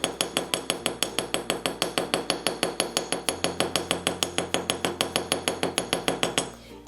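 Rhythmic metal hammering on jewelry wire with texture pliers over a Wubbers teardrop mandrel, about thirty sharp, evenly spaced clinking taps close up, steady and alone before stopping abruptly.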